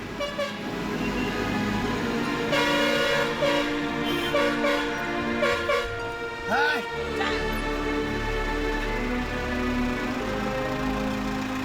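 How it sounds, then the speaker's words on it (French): Truck horns toot repeatedly in short bursts along the streets of Surkhet in Nepal, loud and close over a steady engine and busy traffic rumble, with a longer blast near the middle. "c'est dans les rues de Surkhet que Shibu doit jouer du klaxon"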